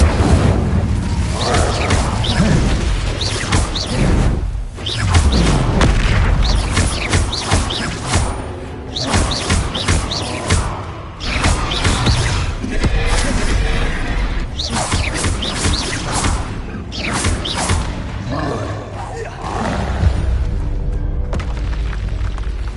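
A fire spell is cast during a spell-slinging fight in the game Hogwarts Legacy: dense, loud, continuous combat with repeated booms, whooshes and crackling bursts, and no pauses.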